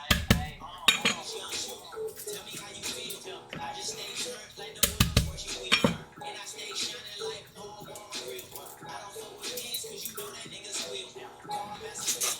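Garlic or similar ingredients being peeled and smashed on a kitchen board, with sharp knocks and clattering of utensils and dishes in irregular bursts, alongside softer handling noises.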